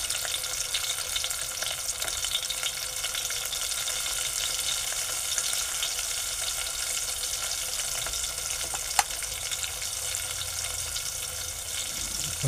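Chilies frying in hot oil in a covered pan give a steady, dense sizzle throughout, with one brief sharp pop near the end.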